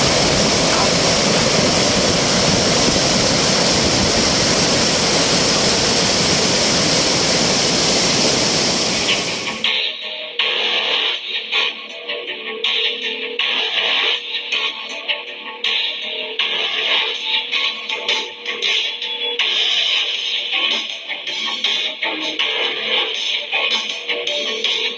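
Aliwagwag Falls in Cateel, Davao Oriental, with water pouring under strong pressure, makes a loud, dense, close roar for about ten seconds before it cuts to a much quieter, fainter stretch.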